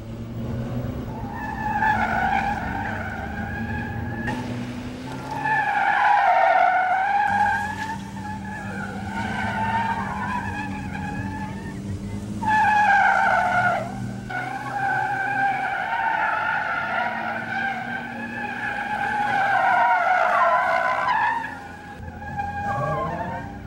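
Gymkhana race cars, including a silver car, skid and squeal their tires through tight maneuvers at a 2005 international gymkhana event, with engine notes rising and falling over long howling slides, close and loud.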